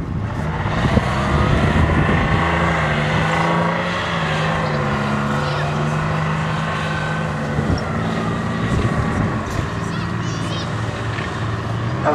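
An FV432 tracked armoured vehicle of the British Army runs steadily, its engine a continuous low rumble with clattering mechanical texture that holds at a constant level throughout, while people talk faintly in the background.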